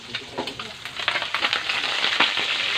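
Food fries in a pan over a fire, giving a steady, close sizzle with crackling pops that builds slightly louder toward the end, with no voices.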